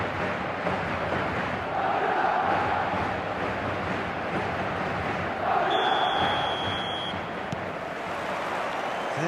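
Stadium crowd in the eFootball football video game: a steady, dense roar from a large crowd at match day that holds throughout, with a brief swell of cheering partway through.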